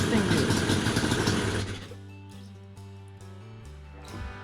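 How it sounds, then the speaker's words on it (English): A Yamaha Banshee 350 two-stroke engine first runs loudly, then settles into a steady idle. A voice speaks briefly over it. "Oh yeah, it's idling."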